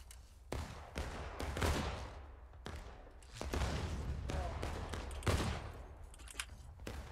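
Musket fire in the Civil War game War of Rights, set at Antietam: repeated loud, ragged cracks of independent fire, several shots in irregular rhythm with rumbling tails, some near and some farther off.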